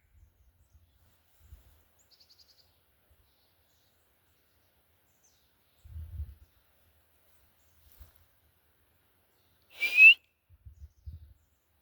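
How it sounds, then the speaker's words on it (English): A single brief high chirp rings out alone in near silence, with a few faint low thumps scattered around it. "I still hear birds"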